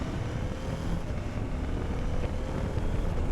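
A CF Moto 800 MT touring motorcycle at highway speed, its engine drone buried in a constant, heavy roar of wind buffeting the microphone, loud and unbroken.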